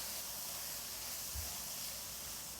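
Chopped chili peppers and garlic stir-frying in a pan give a steady, close sizzling hiss with a brief low thump partway through.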